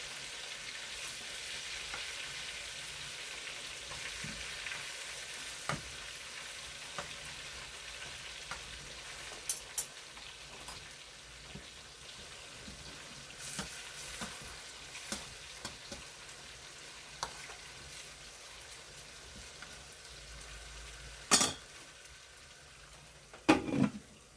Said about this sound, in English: we're gonna cook our leftover stuffing. Just cook it lightly.